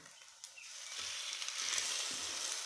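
Egg-soaked French toast bread is set into an oiled pan, and a soft initial contact gives way to a swelling, steady sizzle that stays fairly quiet.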